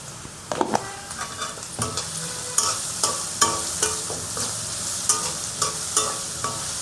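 Vegetables for fried rice being stir-fried with salt in a pan, a steady sizzle broken by repeated scraping stirs of the spatula at an uneven rhythm, close and fairly loud with no talking.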